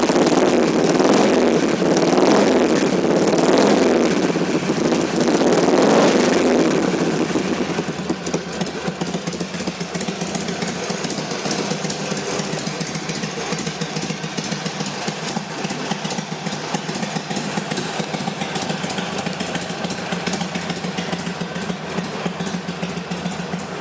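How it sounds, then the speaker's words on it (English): 2006 Harley Davidson Sportster XL883C motorcycle engine with a louder-than-stock exhaust, revving at first then settling into a steady, throbbing idle that runs on close and continuous. "Not sure if this is stock exhaust with the baffles removed, but it definitely is a little bit louder than normal."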